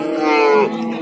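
A single close, loud cow moo with a rising, harmonic-rich tone lasting about a second, heard at an Uzbek cattle market.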